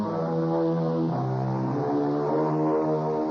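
Propeller airplane engine used as a radio drama sound effect for a flight from Hartford to New York, a steady droning hum with layered harmonic tones that holds at an even loudness throughout.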